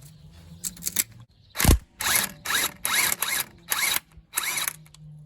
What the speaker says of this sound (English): So let's start by completely removing this bolt.